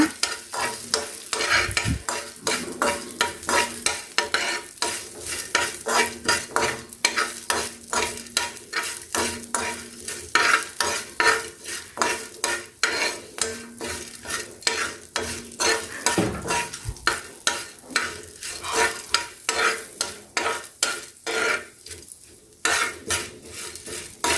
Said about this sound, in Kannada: ಖಾರಕ್ಕೆ ಬೇಕಾಗುವಷ್ಟು ಹಸಿಮೆಣಸನ್ನ ಹಾಕ್ತಾಯಿದ್ದೀನಿ ಮತ್ತು ಸ್ವಲ್ಪ ಇಂಗು ಇದನ್ನು ಇವಾಗ ಚೆನ್ನಾಗಿ ಫ್ರೈ ಮಾಡ್ಕೊಳ್ಳೋಣ